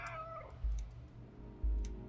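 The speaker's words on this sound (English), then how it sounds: "I said meow." A cat in the Stray video game gives a short, faint meow at the start, followed by two dull low thumps spaced about a second apart.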